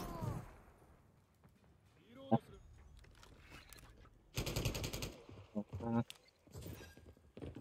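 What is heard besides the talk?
stockless LMG machine gun fire in video game Call of Duty MWIII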